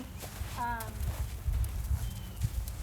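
A horse walks alongside its handler during groundwork, hooves clip-clopping in a loose, uneven rhythm at close range, with a brief tonal call near the start and low, indistinct background voice and rumble.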